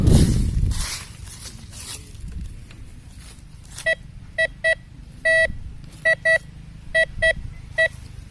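A handheld metal detector sweeping over ground with buried iron plates and old ceramic shards gives a series of sharp, clear electronic beeps, some single and some in quick pairs or a longer tone, after a few seconds of rustling handling noise.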